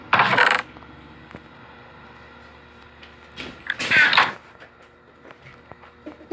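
A door opening in the horror game Illusion of Terror 2, heard as two short, bright, clattering bursts, one at the start and a louder one a few seconds later, over a quiet, humming background.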